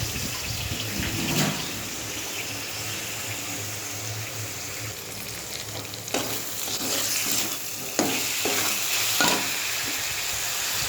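Spice paste with cumin and coriander sautéing in a pan, a continuous sizzle with a few sharp scraping stirs, close and steady, no talking.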